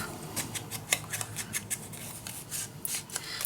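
Scissors snipping paper for a handmade mini album, a quick run of crisp, close cuts in an irregular rhythm, faint and without talk.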